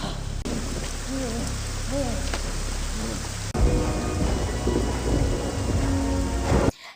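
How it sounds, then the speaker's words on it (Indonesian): Heavy downpour with rolling thunder in a film scene, a dense steady roar of rain with low rumbling swells, briefly broken by a cut partway through, then cutting off at the very end. "Saat itu hujan turun begitu deras."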